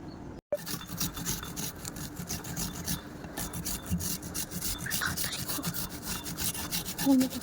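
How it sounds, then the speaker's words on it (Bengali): Onions being grated by hand in a home kitchen, a steady run of rasping strokes, close and fairly loud, with no talking. "এবার আমি এগুলো গ্রেট করে নেব।"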